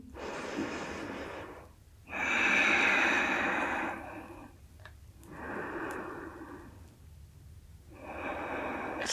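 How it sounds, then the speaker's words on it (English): Deep breathing during a yoga session: four slow, heavy breaths, each a long airy rush separated by short silences. The breaths are close and clear, with no talking. "Breathe deeply."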